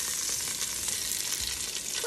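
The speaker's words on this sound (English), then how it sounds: "You want that sizzle, of course." Onions browning in a pan, the start of a salmon sinigang; a steady, close, bright sizzle and crackle runs throughout with no talk.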